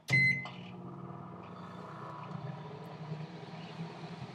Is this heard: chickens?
no